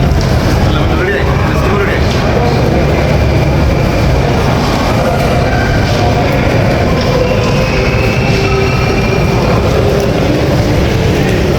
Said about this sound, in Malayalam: മെട്രോയിലേക്ക് കയറാൻ പോവുകയാണ്. മോസ്കോ മെട്രോയാണ്.